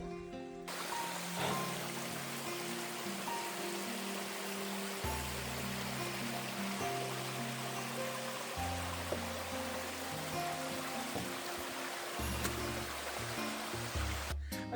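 Steady rush of a waterfall flowing beneath a wooden boardwalk at the Hanging Gardens along the Alaska Highway, a broad continuous wash of water with a low droning hum layered underneath, no talking.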